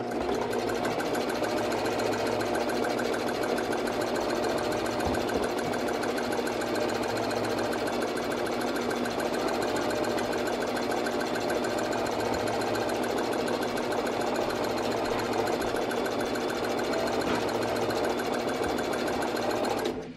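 A sewing machine runs steadily for about twenty seconds, stitching gathering stitches through fabric pieces for a puffed sleeve shirt, a close, even mechanical whir and clatter with no pauses and no talk.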